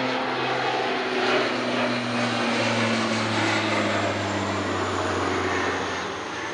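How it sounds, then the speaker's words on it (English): A turboprop crop duster plane taking off low near Montreal's airport, its engine and propeller a loud, steady droning roar with a humming tone that holds throughout, no voices over it. "Takeoff's lower than the other ones. Low takeoff."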